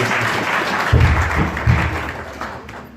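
A church congregation clapping during a sermon, steady dense applause with a couple of stronger swells of claps, fairly close, easing off toward the end.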